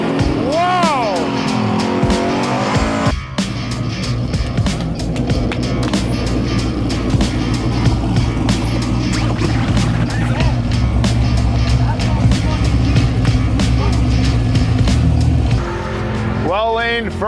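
An LS turbo Ford Ranger makes a drag racing pass at Rad Torque, a loud sustained engine roar climbing through gears at close range, with a voice heard briefly at the start and end.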